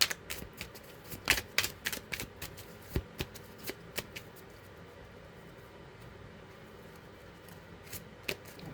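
A deck of tarot cards is shuffled in quick bursts of sharp riffling snaps, nearby and crisp, followed by a few seconds of quiet and then a couple of final flicks.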